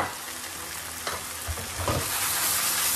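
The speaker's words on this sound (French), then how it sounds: "Maintenant on va venir rajouter les poivrons." Bell peppers go into a hot pan with fried rice, giving a steady loud sizzle with a few scraping stirs over it, close up and with no one talking.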